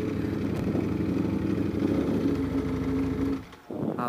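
A Ducati V4 R motorcycle engine runs at a steady, throaty idle close by, dipping briefly near the end before picking up again.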